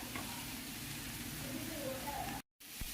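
Carrots sautéing in a pan for paneer rolls give a steady close sizzle with light stirring, broken briefly by a gap of silence before the frying resumes.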